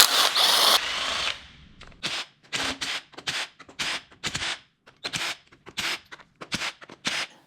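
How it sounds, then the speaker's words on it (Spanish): An impact driver removes bolts from a disassembled PureTech engine: one long whir, then a rapid series of sharp hammering bursts in short, evenly spaced pulses, close and loud. "esto es un atornillador de impacto"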